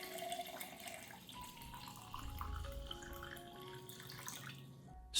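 Clean water being poured onto a few tablespoons of rice in a container, a faint close trickle with rising pitch as it fills, ending in a soft knock.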